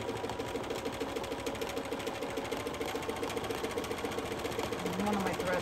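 A domestic sewing machine with a free motion foot runs steadily, stitching continuous scribbling on fabric; a constant, close mechanical whir with rapid needle rhythm throughout, speeding up slightly near the end.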